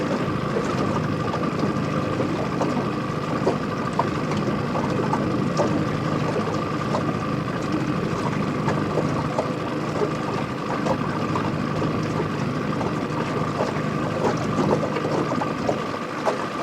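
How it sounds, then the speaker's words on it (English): A steady engine drone runs without a break, the low continuous hum of an old outboard boat motor, unused for two years, over rushing wind and water noise. "The old outboard's purring."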